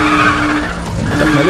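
A Porsche 918 drifts in the racing video game Need for Speed: The Run, its tires squealing loudly and continuously over the engine for the whole short stretch, with no talking.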